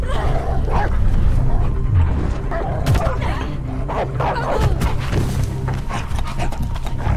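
A dog barks and whimpers in the video game Beyond: Two Souls, with steady yips and whines carrying over a dense, busy game soundscape for about seven seconds.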